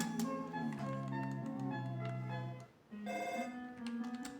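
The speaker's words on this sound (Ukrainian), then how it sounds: "Так, ось нам позвонили." A phone rings in the video game Undertale, a melodic electronic ringtone of sustained tones that plays steadily, pauses briefly, then resumes, clear and alone without talk.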